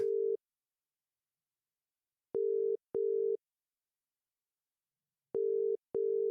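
A phone call rings out in a series of clean, identical electronic tones, one short tone and then two pairs, each pair a quick double pulse separated by silence.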